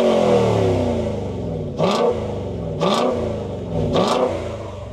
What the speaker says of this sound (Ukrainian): Холодний пуск, так.